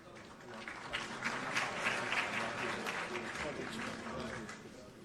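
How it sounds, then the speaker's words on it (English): Audience applause at a swearing-in ceremony at Jubilee House, a steady wash of many hands clapping at moderate volume, fairly distant and sustained throughout with no talk over it. "let's give them a round of applause."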